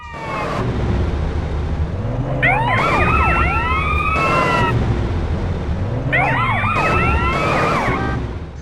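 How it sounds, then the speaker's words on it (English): Police sirens in the video game GTA San Andreas wail and sweep up and down in overlapping waves, loud and close, over a steady engine rumble; several sirens rise and fall together in bursts. "Pay attention to the sound of the sirens"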